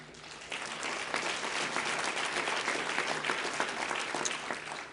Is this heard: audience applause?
yes